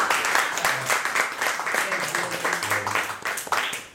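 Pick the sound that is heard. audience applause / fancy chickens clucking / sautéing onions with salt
audience applause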